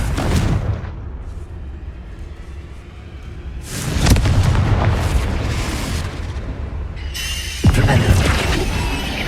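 A Confringo fire spell bursts in the Hogwarts Legacy video game, booming explosions in the game, with several loud blasts about four seconds apart over a rumbling game background, no talk.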